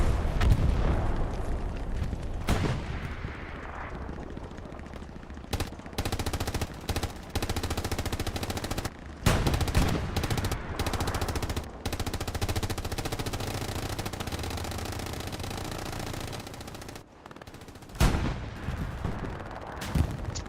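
Heavy combat in Hell Let Loose, set at St Mere Eglise, is full of loud, continuous machine-gun fire broken by sharp booming tank and artillery shots throughout, all close and dense, with no talk over it.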